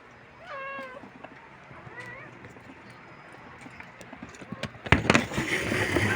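Several cats meow in short rising calls early on, drawn by fish stewed in vinegar, followed by louder clattering and rustling noises nearby.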